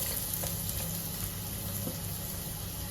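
Garlic fries in hot oil with whole spices such as fennel, cinnamon, cardamom, cloves and a bay leaf, giving a steady, even sizzle at low volume.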